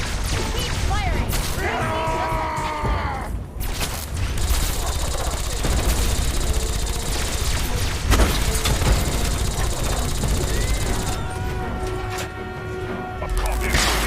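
Sustained gunfire in the Fallout 3 video game, rapid bursts and mechanical clatter filling the whole stretch with a few louder blasts, while voices speak over the shooting.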